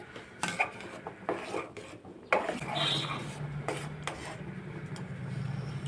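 Pasta boiling in a pot is stirred with a utensil, scraping and knocking against the pot over a steady bubbling simmer, close and fairly quiet, with no voices.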